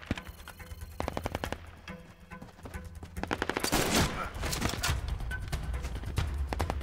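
Rapid bursts of automatic gunfire from the 2020 action film Top Gunner, loud and dense, mixed with other action sound effects and building in intensity toward the end.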